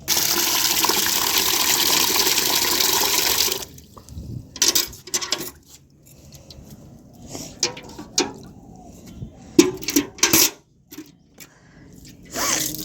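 Water poured from a container onto a yellowing potted aloe vera plant, a loud steady splashing stream for several seconds that stops abruptly, followed by quieter scattered drips, soft knocks and handling sounds.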